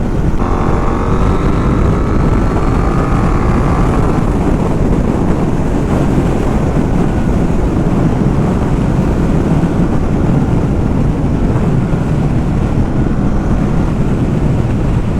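A KTM 890 Duke motorcycle engine with a remapped ECU roars steadily and loudly throughout while riding, heavy wind buffeting the microphone, with a rising rev early on.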